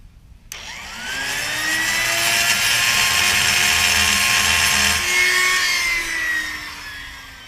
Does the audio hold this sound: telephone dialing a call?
no